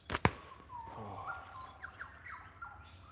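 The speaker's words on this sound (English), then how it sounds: "I've got a cockatoo up in the tree up there." A cockatoo squawks from up in a tree, a couple of sharp loud calls at the start followed by fainter rising chirps from other birds in the distance.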